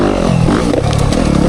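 Yamaha YZ dirt bike engine revving on a woods trail, a loud, close, continuous rough drone with throttle swells and rattling clatter over the whole short burst.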